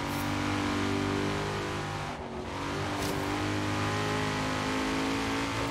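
A Nissan Skyline GT-R engine in Forza Horizon 3 revs loudly and steadily at high pitch, holding a sustained roaring drone with only a brief dip midway, close and uninterrupted.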